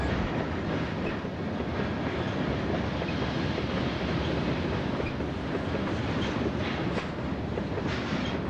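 A Southern Pacific or Santa Fe freight train rolls past close by at Tehachapi, a loud continuous rumble with rhythmic clacking of wheels over rail joints.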